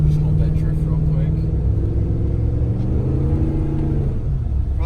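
A car engine rumbles low and steady while sliding without traction in a drift, its pitch wavering near the end, with a person talking over it.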